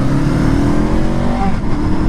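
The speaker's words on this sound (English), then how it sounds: "these 180-degree parallel twins, they don't have quite as much character in their sound" A Honda SCL500 scrambler's 180-degree parallel-twin engine runs loud and close, a continuous revving growl with shifting pitch and no one speaking.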